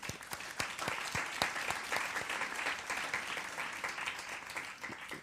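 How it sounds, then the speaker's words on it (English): An audience at a book kickoff celebration in Philadelphia breaks into applause, a fairly faint but dense and continuous wash of many hands clapping, with crisp individual claps early and a steady level through the end. "I find that applause is for her"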